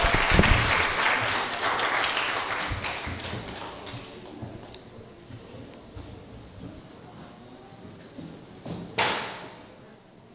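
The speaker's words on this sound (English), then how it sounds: "Please give her a round of applause for doing that." Applause at a summer music-studio concert for a young pianist, loud at first and gradually thinning to scattered claps, with a sharp knock near the end and murmured voices underneath.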